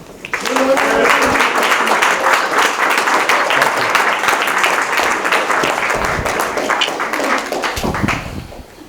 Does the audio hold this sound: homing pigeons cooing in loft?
no